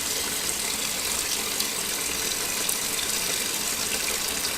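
Tap water runs in a steady, loud, continuous gush while a pig head is rinsed under it in a kitchen sink during preparation of hog head cheese.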